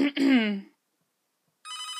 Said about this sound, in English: I'm getting a phone call.